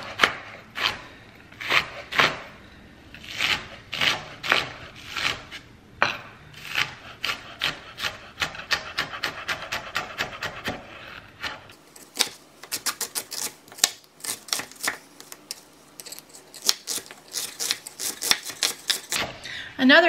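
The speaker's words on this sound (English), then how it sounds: "Another tip when cutting onions is don't pull your knife up." A knife chops onion on a cutting board for broccoli cheese soup, with close, rhythmic crisp taps that quicken into a fast run of cuts, while a person talks throughout.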